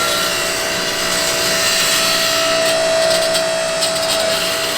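Long-travel hydraulic press used for pressing studs into bumper parts in a fabrication shop, a steady loud whining hum with a sustained tone and constant hiss, close by and unbroken throughout.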